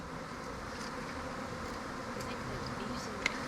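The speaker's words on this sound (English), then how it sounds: "When bees are swarming, they are not a threat to you in any way whatsoever." A dense, continuous buzz of swarming bees, steady and even throughout, with individual insects flying close past now and then.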